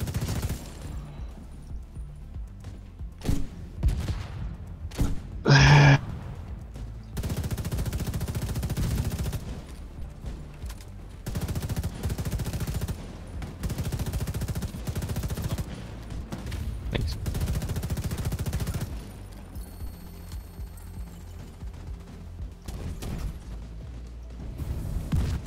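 Sustained video game gunfire, dense fusillades of rapid shots rolling on and off for long stretches, fairly loud, with brief players' voices between bursts.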